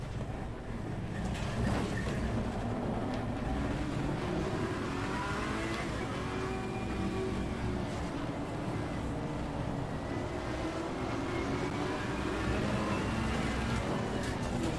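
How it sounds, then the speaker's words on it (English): Heavy rain falls on a soaked track in a racing video game, a constant loud hiss blended with the continuous drone of a Ferrari's engine racing near an AMG, unbroken for the whole stretch. "Lots of rain, lots of water."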